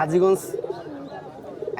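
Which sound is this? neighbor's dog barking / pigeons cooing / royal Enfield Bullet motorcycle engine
pigeons cooing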